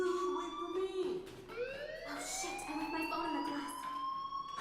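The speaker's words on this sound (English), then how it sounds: "Hey, do you hear that fire alarm?" A fire alarm in the video game Life Is Strange, a loud rising electronic siren wail sounding continuously with a voice speaking over it.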